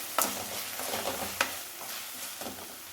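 Small shallots with salt sautéing in a pan, a steady close sizzle broken by a few sharp scraping stirs of a spoon against the pan.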